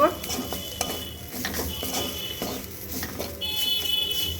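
Bitter gourd coated with gram flour and rice flour is stirred in a pan over low gas flame, giving a close, steady scraping and soft sizzle with occasional clinks of a utensil against the pan.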